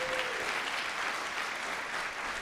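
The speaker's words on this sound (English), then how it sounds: "Everybody give Kevin a round of applause." Audience applause welcomes Pulitzer Prize-winning journalist Kevin Sack at a literary chat event: a soft, continuous wash of many hands clapping, steady and fairly distant throughout.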